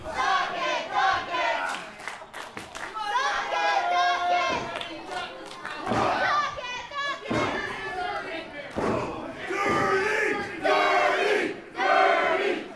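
A live independent wrestling crowd at a Christmas special chants loudly in rhythmic bursts with shouts and thuds throughout, dense and close.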